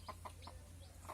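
Village chickens give a few short, soft clucks in quick succession, faint and close, over a quiet low background hum.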